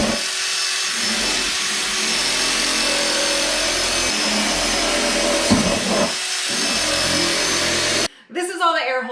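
A drill bores air holes through a plastic worm farm bin with a steady, loud whine that runs almost without a break for eight seconds. A voice talks briefly as it stops.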